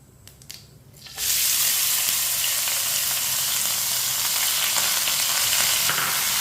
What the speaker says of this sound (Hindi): प्याज को भी हल्का सा ब्राउन कर लेंगे